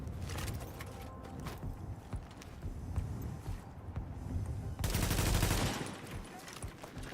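Rapid automatic turret fire rattles in the shooter game Survive Fest, coming in dense bursts of gunshots, heaviest near the end, mixed with other game noise.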